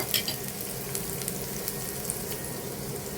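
Bitter gourd with shrimp and potato fries in oil in a pan, a steady close sizzle broken by a few light clicks of the stirring spoon, with no speech.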